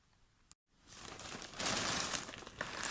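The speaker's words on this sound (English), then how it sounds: "I will use a knife to open the plastic bag" A knife slits open a plastic shipping bag holding a peacock coffee cup ordered from AliExpress, giving a close, steady crinkling and tearing rustle that swells and continues for a few seconds after a brief pause.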